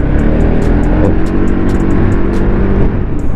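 A Peugeot Metropolis 400cc three-wheel scooter accelerates under power, its engine note a steady, loud, close drone that holds for a few seconds with no talk.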